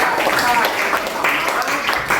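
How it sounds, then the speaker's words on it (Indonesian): Schoolchildren in a classroom clap together for a classmate who answered a question, a brisk scattered round of hand claps with some voices mixed in. "berikan tepuk tangan pada Gendis."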